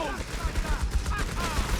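A Vickers machine gun fires a burst in the World War II strategy game Company of Heroes 3, a quick rattle of gunfire with a crackling clatter of shots, mixed in with busy battle noise.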